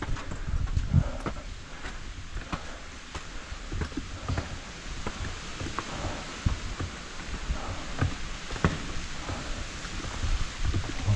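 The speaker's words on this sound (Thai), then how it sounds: "ฝนตก" Steady rain falls outdoors near a cave, a dense continuous hiss with scattered louder drops and patters throughout, fairly close and uninterrupted, with no voices.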